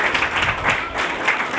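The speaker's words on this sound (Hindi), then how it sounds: "जोरदार तालियां बजाएं" Congregation at a live church sermon claps loudly and steadily in a dense, continuous burst of applause, filling the whole short moment without any talking.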